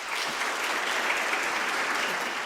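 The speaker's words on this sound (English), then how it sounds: "Getting some very well-deserved and appreciative applause there" Sustained, dense audience applause fills the room after a choir performance of Kodály's Ave Maria by Manx Voices, steady and fairly loud throughout with no voices.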